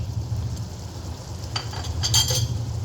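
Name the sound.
stirring boiled chana dal into a cooking pot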